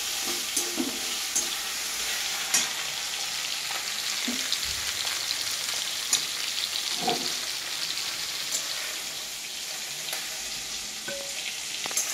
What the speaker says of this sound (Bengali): বিলাতিটা কিছুক্ষণ ভাজা হোক